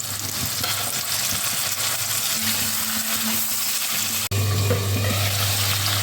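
Broiler chicken meat and potatoes fry in a pan, a steady close sizzle with stirring scrapes throughout, one brief dropout near the end before the frying resumes louder.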